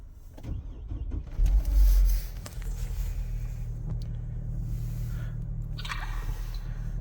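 A 2007 Hummer H3 engine fires up with a short roar, then settles into a steady low idle hum that continues throughout.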